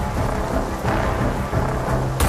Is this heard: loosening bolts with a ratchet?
no